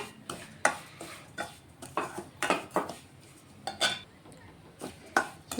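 Semolina being fried in a pan for a sweet, a ladle scraping and knocking against metal in quick, irregular strokes, close and fairly quiet with a soft hiss between.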